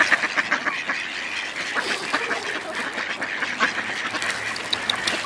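Many ducks quack continuously at a park, a busy, overlapping chorus close by with no talking.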